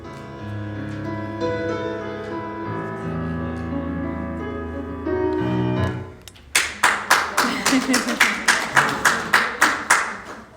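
Sustained organ-like music fades, then a church congregation breaks into rhythmic clapping, about a dozen loud, evenly spaced claps, during a night worship service.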